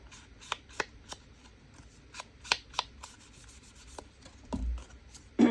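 A paper journaling card slides and rubs as it is tucked into a small paper envelope, soft scraping rustles with several light taps, close and quiet.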